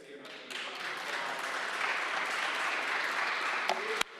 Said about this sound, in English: Please, let's give CMSD a round of